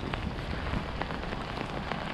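Rain falls steadily onto water during a fishing trip, a close, continuous hiss of drops with scattered louder splashes and no voices.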